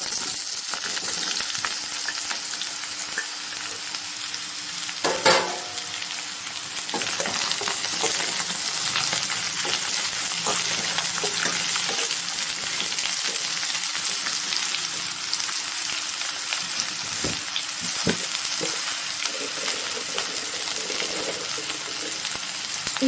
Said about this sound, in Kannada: ಈಗ ಹೀರೆಕಾಯಿ ಸಣ್ಣದಾಗಿ ರೌಂಡಾಗಿ ಕುಯ್ಕೊಂಡಿರೋದನ್ನ ಹಾಕ್ಕೊಳ್ಳೋಣ